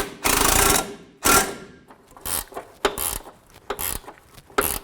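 A ratchet tightening the nut on a front upper control arm bolt of a 1984-2001 Jeep Cherokee, in several loud, close bursts of rapid clicking with short pauses between them.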